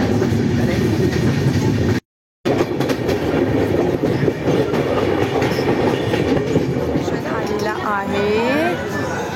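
Moving train in Delhi with steady clickety-clack of wheels and a loud rolling rumble, wheel squeal rising near the end, someone speaking over it near the door.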